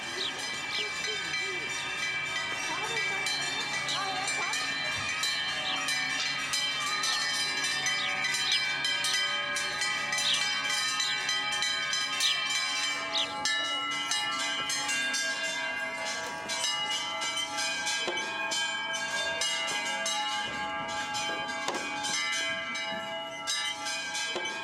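Herd of cows wearing bells in the Bavarian Alps being collected by their owners, a continuous dense jangle of many clanking bells ringing together for the whole stretch, with no speech.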